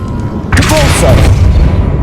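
The Depulso spell is cast in Hogwarts Legacy, a sudden loud whooshing burst with a booming punch and bright swirling tail, arriving after a moment of quiet.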